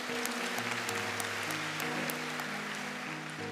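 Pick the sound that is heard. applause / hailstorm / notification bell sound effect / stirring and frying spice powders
applause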